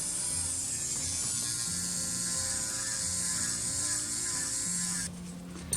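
An electric nail drill bit files a fiberglass nail with a close, steady whirring buzz that shifts in tone as the bit moves across the nail, then cuts off abruptly near the end.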